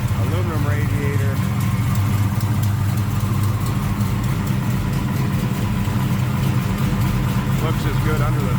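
A 1964 Plymouth Savoy with a 440 engine and dual Edelbrock four-barrel carburettors idles loudly and steadily close by, a deep even rumble throughout while someone talks over it.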